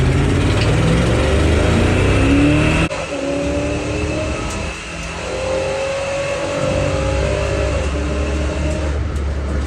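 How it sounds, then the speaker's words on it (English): A drag race pass against a 1968 Plymouth Roadrunner with a big-block engine roars loudly at the start, then engines rev and climb through the gears as the cars pull away down the strip. "Very first pass of the night is against the 68 Plymouth Roadrunner with a 3-3 big block."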